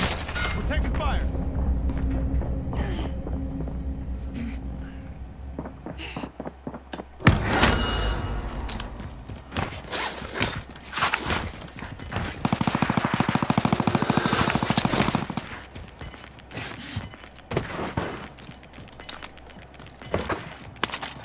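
Rapid bursts of automatic gunfire and heavy booms in a first-person shooter match with an AK-47, dense and close, with the heaviest volleys clustered midway and in game voice callouts spoken over the shooting.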